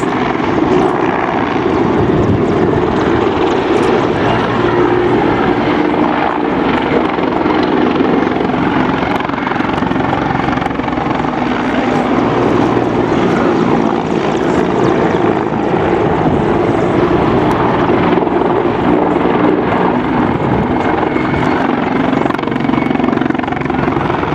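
Mi-24 Hind military helicopters fly past at a Polish Army open day, their engines and rotors making a loud, steady roar that holds for the whole stretch without fading.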